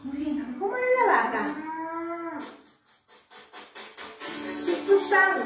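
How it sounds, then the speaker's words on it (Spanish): Recorded cow mooing played back: a long, loud, drawn-out moo with a wavering tone, then a short gap and a second, rougher bellowing moo, close and clear with no talk over it. "¿Sabes cómo hace la vaca?"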